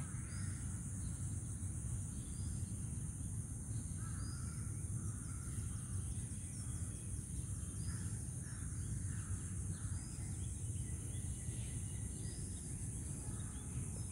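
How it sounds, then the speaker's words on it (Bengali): Crows caw now and then over a constant hiss of insects and wind in a casuarina grove beside the sea at Cox's Bazar, the calls faint and scattered against the steady background. "একটু নিশ্চুপ থাকলেই প্রকৃতির পাখির ডাক শোনা যাচ্ছে"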